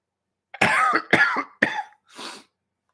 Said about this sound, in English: I'm feeling better, but there's still a cough.